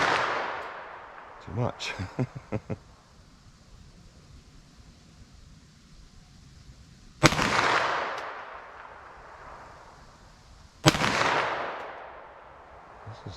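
.357 Sig pistol fired into ballistic gel outdoors: two sharp, loud gunshots some seconds apart, each with a long fading echo, after a brief burst of clattering clicks, with speech nearby.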